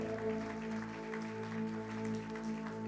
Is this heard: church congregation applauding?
yes